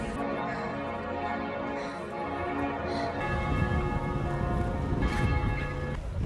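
Church bells peal continuously at midnight on Christmas in Budapest with rich ringing tones, while crowd noise and voices swell underneath in the latter half.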